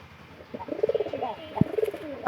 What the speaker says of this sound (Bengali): তো আমার কবুতর গুলা অনেক ভালো